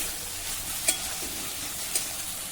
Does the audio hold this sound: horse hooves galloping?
no